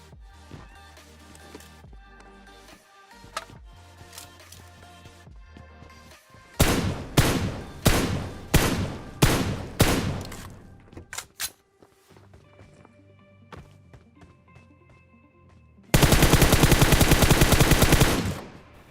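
Gunfire from the video game PUBG Mobile, with a Kar98 rifle in play. A run of sharp, loud shots comes in quick succession, then a dense sustained burst of fire over a quieter game background.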